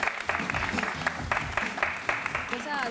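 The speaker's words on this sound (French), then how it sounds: "On l'encourage, applaudissements pour" Applause from an audience, a burst of clapping with irregular sharp claps, while a voice speaks over it.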